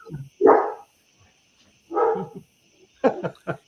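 Dogs barking in a few short bursts, moderately close, with quiet gaps between them and a faint steady hum in the background.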